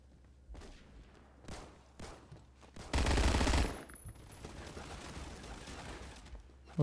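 Gunfire in the Roblox game Phantom Forces, with a loud sustained burst of automatic fire in the middle of scattered quieter shots and game noise.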